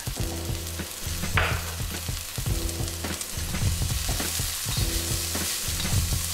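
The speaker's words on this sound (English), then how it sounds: "Give that a good mix. Make sure all the ingredients are well blended." Scallions, salt and curry powder sizzling in a pan for an Iraqi fish fillet dish, with loud, continuous frying and rhythmic stirring scrapes, heard up close with no speech.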